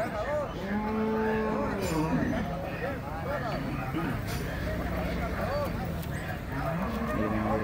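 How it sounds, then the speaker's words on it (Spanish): Cattle at a livestock market in San Miguel, several cows mooing repeatedly, some long low calls close by, over constant crowd murmur and someone talking. "Ahí están las vacas."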